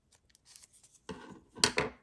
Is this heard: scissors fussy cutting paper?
yes